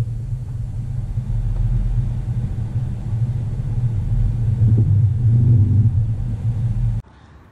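Tesla car reversing out of a parking spot on its own, a steady low rumble from close by that swells slightly before cutting off abruptly near the end.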